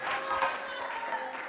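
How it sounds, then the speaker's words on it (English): Crowd at a darts final cheering and applauding over a big leg, a steady broad wash of clapping and voices heard from the hall. "the crowd cheering"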